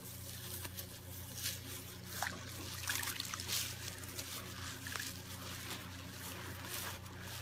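A bath puff being dunked and squeezed in a bowl of water gives a steady soft trickle and dribble, with small splashes and squishes close by and no talking.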